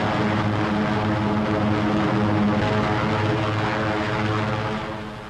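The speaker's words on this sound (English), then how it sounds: "And here are the heavies, giant flying fortresses that drop their tons of high explosives on pinpoint targets." B-17 Flying Fortress heavy bombers in flight during the 1943 air war over Europe, a loud steady drone of massed propeller engines that holds throughout and fades slightly at the end.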